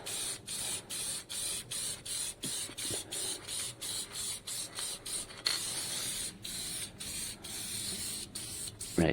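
Short bursts of an aerosol can spraying paint in layers on a motorcycle project, a steady run of hissing puffs with brief gaps, close up, until the can runs nearly empty.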